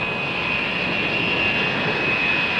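Carrier aircraft jet engines roar in a loud, steady wash with a high whine running through it, unbroken and close for a few seconds.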